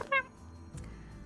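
A streamer's voice imitates a cat with one short, high, nasal meow, followed by quiet room noise.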